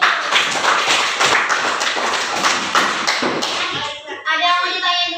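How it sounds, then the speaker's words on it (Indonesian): A group of children in a classroom claps together in a lively burst of rhythmic applause, close by, ending with a short chant of voices. "Tepuk tangan dulu."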